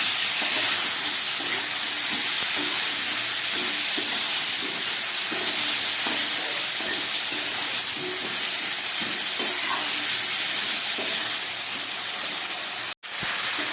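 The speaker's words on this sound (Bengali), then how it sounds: "সামান্য একটু জল দিয়ে দিচ্ছি, যাতে মশলাটা ভালো করে কষানো যায়" Masala sizzles and steams steadily in a pan after a splash of water is added, a dense continuous hiss with faint stirring scrapes throughout, close and loud until an abrupt cut near the end, for a papaya, potato and chickpea curry.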